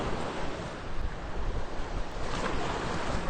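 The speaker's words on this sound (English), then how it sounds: "It's a bit windy today." Wind buffets the microphone at a beach with surf, a dense continuous roar and rumble filling the clip with no pauses and no voices.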